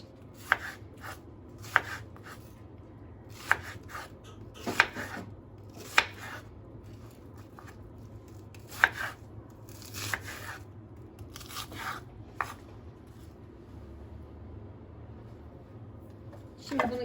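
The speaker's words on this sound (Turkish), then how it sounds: "Çok küçük doğramama gerek yok. Zaten içinde pişecekler." Knife chopping vegetables on a cutting board in a home kitchen, a series of sharp irregular cuts spaced a second or so apart, close and fairly quiet.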